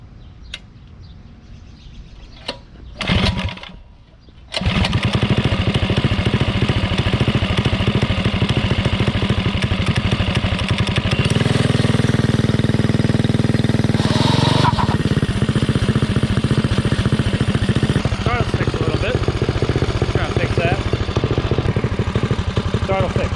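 A Predator 212cc engine on a pit bike with a muffler, running race gas or E85, is pulled to start, then catches and runs loudly and steadily close by, with a rev rise partway through.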